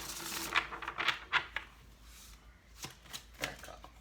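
Tarot cards are shuffled by hand in a few quick riffling bursts and soft slaps, near and quiet, with pauses between.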